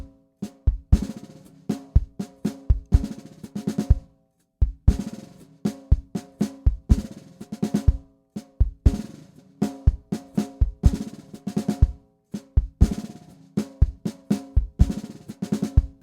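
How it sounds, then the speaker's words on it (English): A mellow worship drum groove with the hi-hat added on beats two and four over kick and snare, played steadily and loudly in a repeating pattern for the whole stretch, with brief gaps between phrases. "So when you add the hi-hat to the groove, it sounds like this."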